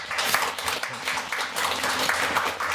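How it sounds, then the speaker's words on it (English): A round of applause from an audience at a coworking event, with continuous hand clapping from a moderate crowd at fairly even loudness. "So give him a round of applause."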